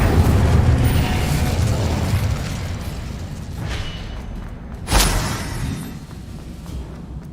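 A Confringo explosion spell in the video game Hogwarts Legacy, a loud booming blast with a rumbling low tail, followed by a second sharp burst a few seconds later that fades into quieter mechanical rumble.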